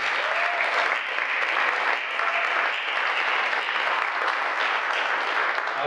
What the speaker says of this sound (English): a second round of applause for them